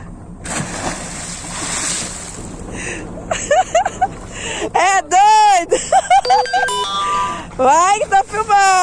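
Wind buffets the microphone aboard a small boat on the Macapixi river, a steady broadband rush filling the first few seconds before several people start talking loudly over the continuing noise.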